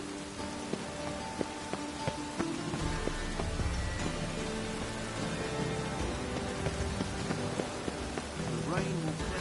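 Steady rain patters across a surface, dense and continuous, with scattered drips and some faint tonal game sounds beneath, in the video game The Witcher 3.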